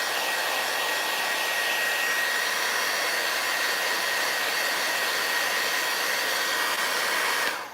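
A heat tool blows hot air steadily onto an Easter egg craft made with molds, a loud, continuous broadband whoosh with a faint high whine, running unbroken for the whole stretch with no voices.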